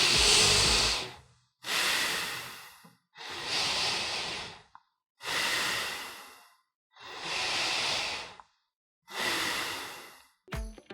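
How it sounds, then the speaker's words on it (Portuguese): Six long, deep, noisy breaths, heavy and close, each a loud airy rush followed by a short pause, with no talking; deep breathing three times used as a signal in a phone call. "apenas respirar fundo 3 vezes"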